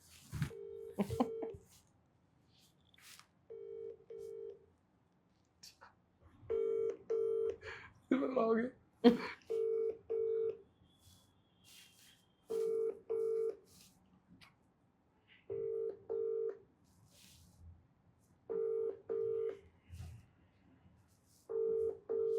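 A phone call's electronic tones on a handset repeat in short, evenly spaced bursts with gaps between them, while a voice talks quietly in between.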